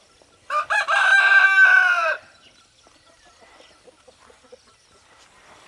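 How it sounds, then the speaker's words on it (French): A rooster crows once, loud and close, in a farm chicken building, followed by a few faint clucks from the hens. "Mais là-bas, je crois qu'il y a des poulets,"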